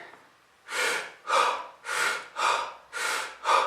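Wim Hof style breathing exercise: a person takes six deep, forceful breaths in close succession, each a loud rushing draw of air followed by a short pause, heard up close with no talking.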